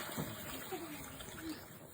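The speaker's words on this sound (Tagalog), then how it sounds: "Magdagdag lang tayo mga Mima ng tubig." Water poured into a cooking pot of mussels and vegetables, a short soft splashing and trickling heard faintly under a quiet room.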